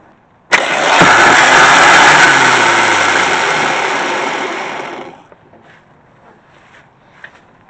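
An engine starter motor on a bench test spins up with a sharp onset into a loud, steady whirring drone for about four and a half seconds, then winds down and stops, leaving faint background noise.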